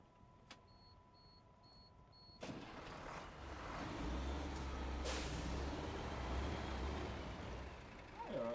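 A heavily loaded truck in the SnowRunner video game comes to a stop with a sharp air-brake hiss, followed by a loud, sustained low engine rumble and mechanical noise.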